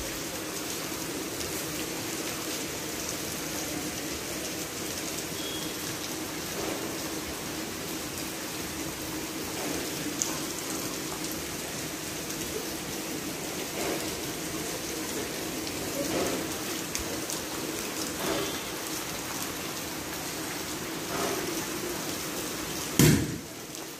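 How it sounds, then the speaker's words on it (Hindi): Steady rain falls continuously in a broad, even hiss, with scattered louder drops and a brief sharp knock near the end; no one speaks. "आज सुबह से इतनी प्यारी वाली बारिश हो रही है"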